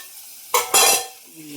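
A lid comes off a pan of green chilli masala frying in oil: two sharp bursts of clatter and hissing spit, then the sizzle quickly settles to a quiet simmer.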